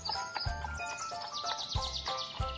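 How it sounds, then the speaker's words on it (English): A cartoon palomino horse gives a bright, chirpy whinny with a few clip-clop hoof beats, repeated in short bursts over light background music. "that's our horse Palomino"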